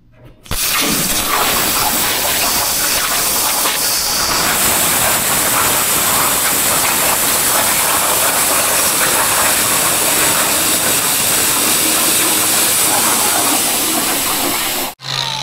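A CNC plasma cutting table runs a cut program on steel plate, cutting out square stake pockets for a truck flatbed, giving a loud, steady hissing roar with a crackling edge that holds unbroken for about fourteen seconds before stopping abruptly.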